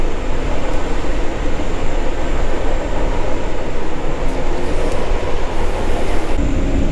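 Intercity passenger train wagons in Poland, bound for Wrocław and Warsaw, give off a steady, loud rolling rumble with dense low-frequency roar and faint rail clatter, continuous and close throughout, with no speech.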